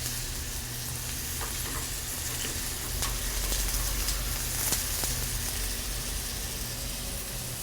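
Potatoes fry in a pan with a steady, dense sizzle that fills the scene, punctuated by a few faint clicks as they are turned.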